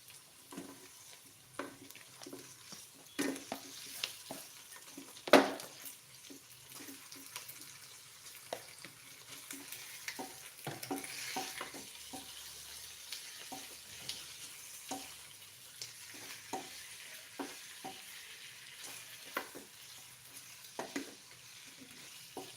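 Garlic, shallots and onion being fried and stirred in a pan for ginseng chicken soup, with a steady sizzle and repeated sharp scrapes and taps of a utensil against the pan, fairly close, no talking.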